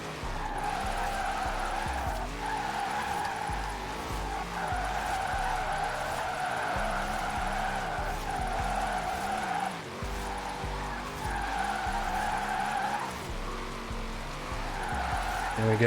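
A drifting car in Forza Horizon 4 on Fortune Island holds long, sustained tire squeals over a steady engine roar. The skid rises and falls in waves as the car slides continuously through corners.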